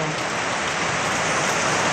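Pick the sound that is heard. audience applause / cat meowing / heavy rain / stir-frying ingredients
heavy rain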